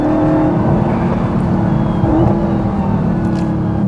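A Dodge Hellcat Charger Widebody drives hard on a mountain road, heard from inside as a loud, sustained engine roar with a steady tonal whine and small shifts in pitch through the corners.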